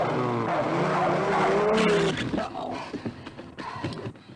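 A car pulling away from the kerb during a 1960s driving lesson, its engine revving and straining loudly for a couple of seconds and then settling into an uneven, fading drive.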